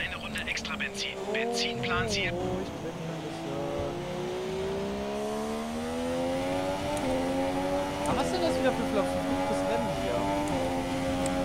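An undamaged Formula 1 car laps the Canada circuit alone in the F1 2017 racing game. The engine whines close and loud, rising and falling in pitch through gear changes for the whole stretch.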